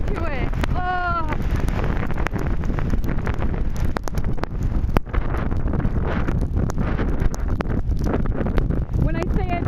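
Strong Hurricane Irene wind gusting along a road, heard outdoors as a loud, continuous roar and buffeting that never lets up, with brief voices breaking through now and then.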